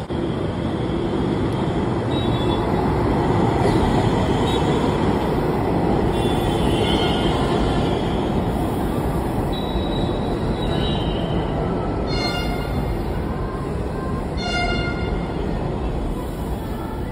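A Kanpur Metro train pulling into a station, with a continuous loud rolling rumble of wheels on rail and several high, thin squeals and whistle-like tones rising over it, close and sustained.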